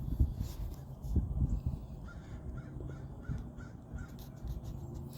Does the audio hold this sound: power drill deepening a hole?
no